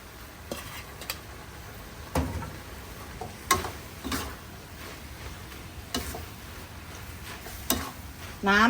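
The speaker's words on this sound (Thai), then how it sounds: "เดี๋ยวเราจะผัดให้น้ำมันงวดนะคะ" Vegetables stir-fried with red curry paste and a little added water in a pan for a Thai chap chai dish, with a steady low sizzle, scattered clinks of a spatula against the pan, and occasional louder scrapes and stirs.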